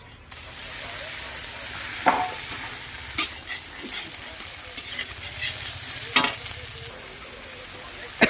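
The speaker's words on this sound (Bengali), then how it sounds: "ভালো করে ভাজা হচ্ছে।" Onions fried until deep red, with ginger, garlic and green chili stirred in, sizzle steadily in a pan for chicken curry, broken by a few sharp scraping stirs and clinks; no talking.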